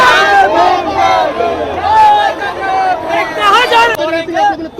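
Protesting students in Patna chant slogans against the government during a UGC dispute, a loud, close crowd of voices shouting in rhythmic unison over continuous background clamor.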